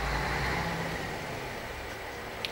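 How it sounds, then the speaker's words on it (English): A car engine runs outside, a low steady idle heard faintly from indoors as the car prepares to pull away, with no voices. "now that stupid car that made a lot of fucking noise is finally gonna leave"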